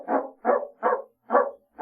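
A dog barks five times in a steady, evenly spaced rhythm, close and clear against silence, as a sound effect in a radio drama set on a seaside estate.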